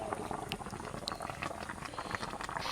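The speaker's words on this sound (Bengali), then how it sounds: "জলটা একদম টকবক টকবক করে ফুটছে," Water boils vigorously in a wok set up for steaming, a dense, steady bubbling and popping that runs continuously without pause.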